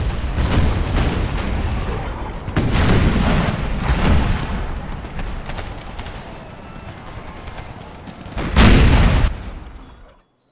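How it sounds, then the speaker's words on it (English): Parrott rifle cannons fire percussive shells in an Empire: Total War American Civil War mod, heavy booms rolling across a busy battlefield with one loud close blast near the end before fading out. "the Parrotts will actually fire straight ahead, right into the Virginia volunteers in front"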